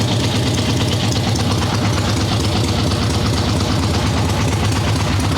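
A swap meet chopper motorcycle engine idles loudly and close by in a shop, a continuous low rumbling drone with rapid, even firing pulses that hold steady throughout.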